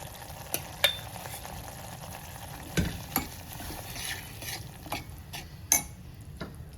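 Spinach is stirred while frying in a pan, with a soft sizzle broken by several sharp spatula scrapes and knocks against the metal.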